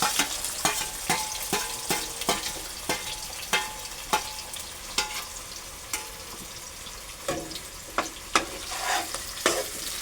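Onion and tomato frying together in a pan, a continuous loud sizzle broken by regular sharp clicks and scrapes of a spoon stirring against the metal.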